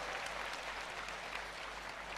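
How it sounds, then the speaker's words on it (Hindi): An audience at a Hindi comedy poetry show claps loudly for the space agency ISRO, a steady wash of applause heard alone and slightly distant for a couple of seconds. "एक बार जोरदार तालियां हमारी संस्था इसरो के लिए बजाइए।"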